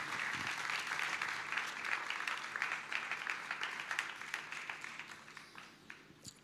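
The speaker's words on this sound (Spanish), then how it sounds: "Fuerte ese aplauso de alabanza al Señor" Church congregation applauding in praise after a prayer, a broad, sustained patter of many hands that thins toward the end into more distinct individual claps, moderately distant.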